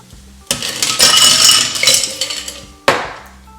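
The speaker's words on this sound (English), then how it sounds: "Now, we'll cover this with ice." Ice tumbles into a glass for a bourbon or gin cocktail with orange bitters. A loud clattering pour of cubes rattles for a couple of seconds, then a second sharp clunk of ice follows.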